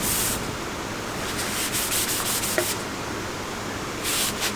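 A forged steel spear blade made from 1900s scrap is sanded by hand with 120 to 320 grit sandpaper. The close, steady rubbing comes in repeated hissing back-and-forth strokes, with no talk.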